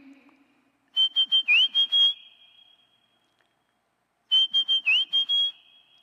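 A person whistles an imitation of a rufous sibia perched in a coral tree: two bursts of quick, clipped high notes, each ending in a sliding, held tone, separated by a pause and heard alone and close.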